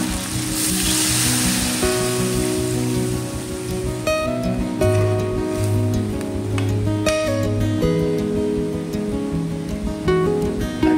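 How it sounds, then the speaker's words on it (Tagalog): Coconut milk poured over chicken simmering in a pan, with papaya and malunggay going into the same dish; a steady sizzle and bubbling runs throughout beneath sustained background music tones. "Lagyan na po natin yung gata."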